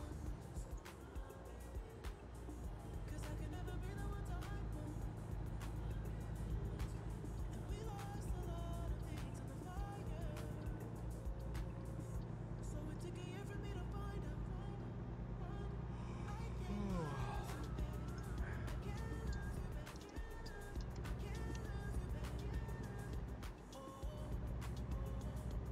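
A Kenworth truck drives on while hauling a load, its low engine drone and road rumble steady and continuous, with music and a brief voice mixed over it.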